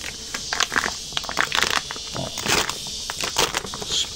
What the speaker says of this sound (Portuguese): o Francisco vai abrir para mostrar pra gente como é que tá esse enxame aí